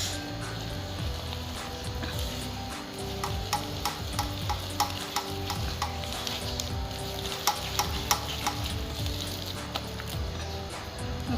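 Ghevar batter whisked in a bowl while maida flour is added a little at a time, giving steady rhythmic scraping with quick clicking strokes throughout, fairly close and with no talk.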